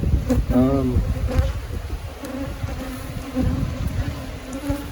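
Honey bees buzz steadily at an open hive in a beekeeping yard, a dense close hum with a few individual insects droning past, while a voice briefly talks over the swarm near the start.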